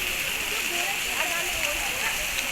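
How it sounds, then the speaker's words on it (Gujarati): A mountain stream on the Kedarnath trek rushes in a steady, even wash of flowing water that fills the whole short stretch without letup. "મસ્ત ઝરણું જાય છે."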